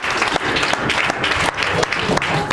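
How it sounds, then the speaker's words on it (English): A church congregation claps together during a worship service, a dense, steady burst of many hands filling the room, loud and continuous with a few sharper accents. "Clap for Jesus."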